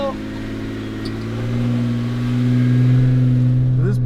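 A Jeep's engine revs and strains as it climbs Cadillac Hill on the Rubicon Trail, a loud, close, rising drone with a voice calling out briefly near the end.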